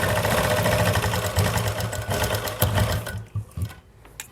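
A sewing machine stitches along buckram on a sweetheart neckline with a loud, fast, continuous whir, then slows and stops near the end, leaving a few soft clicks.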